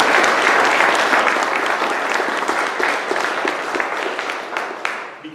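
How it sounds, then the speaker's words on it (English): A meeting audience at a community beaches watch gathering gives a dense, sustained round of applause, steady and fairly loud for several seconds before thinning slightly at the end. "They deserve a huge round of applause."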